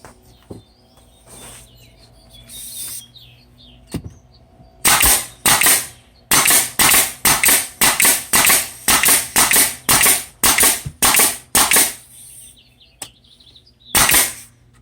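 Pneumatic nail gun fastening the bottom piece of a rotted window sill under repair: a quick series of about a dozen loud, sharp shots in a fast irregular rhythm, with a few isolated shots before and after.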